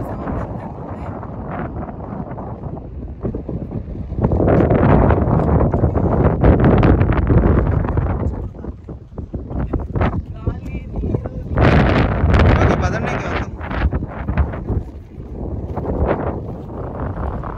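Cool wind gusts by the water, with boats in the distance, buffet the microphone in rough, surging roars that swell and ease over the whole stretch.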